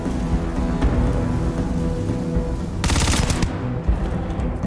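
Rapid automatic gunfire from the space video game Starfield, a loud, dense burst of shots running continuously over game music and effects, with a sharper, brighter volley near the end.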